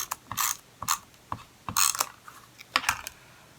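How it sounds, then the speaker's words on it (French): A handheld tape roller clicks and ratchets in short bursts, a series of crisp mechanical clicks and brief rolling rasps, close by. "je vais prendre mon petit rouleau de scotch"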